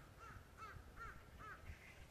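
Crows cawing in an autumn forest turning toward winter, four harsh repeated caws at an even pace over a low rumble of background noise, moderately distant.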